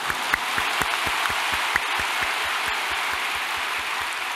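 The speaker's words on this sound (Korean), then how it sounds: "박수를 치니 좋은데 나도 함 치겠습니다." A church congregation during a sermon keeps up a rhythmic, even clapping beat, with sharp regular hand claps over a bright wash of sound for several seconds.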